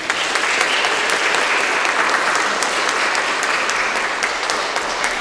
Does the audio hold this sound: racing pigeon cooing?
no